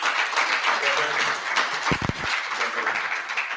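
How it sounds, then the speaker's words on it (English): Audience applause at a women's conference, a moderately loud, steady patter of many hands clapping from the crowd, with a brief low thump near the middle. "a round of applause?"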